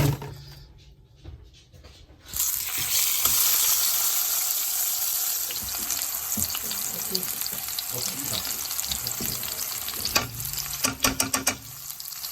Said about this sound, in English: we go on sear the hell out of this